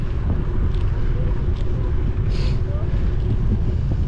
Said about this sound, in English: Man, wind picked up.